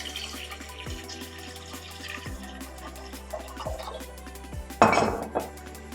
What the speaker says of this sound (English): I'm going to pour water below.